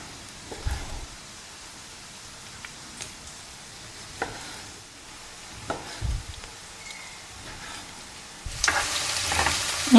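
Peppers frying in a pan, a soft steady sizzle throughout with occasional stirring clatters, growing louder and brighter near the end.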